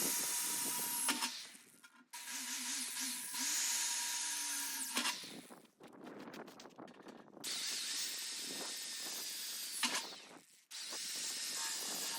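A power drill whines in several bursts with short pauses between, boring screw holes through material at close range for a homemade maple syrup evaporator.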